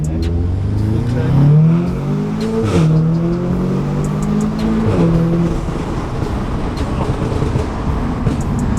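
A 2016 Audi S3 8V with downpipe and intake revs and accelerates in loud rising and falling engine sweeps, with exhaust pops and crackles as it lifts off, heard close from inside the car.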